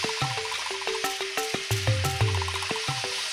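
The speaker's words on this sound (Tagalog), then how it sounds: "Igisa natin yung ating kamatis." Tomatoes sautéed in a pan reused for tilapia curry, with a little oil; a soft continuous sizzle punctuated by regular utensil clinks and stirring taps against the pan, close and moderately quiet, no voices.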